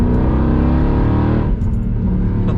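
Stage 3 Weistec supercharged Mercedes CLK 63 AMG Black Series engine running loud and close with a steady deep rumble, then the tone shifts and drops after about one and a half seconds, with no voices.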